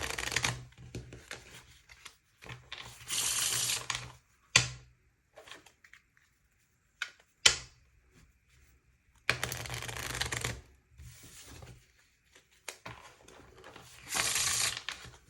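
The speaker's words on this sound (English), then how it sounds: "Shuffle some playing cards" Playing cards are shuffled in several crisp riffling bursts close to the mic, separated by pauses with occasional taps and handling noises.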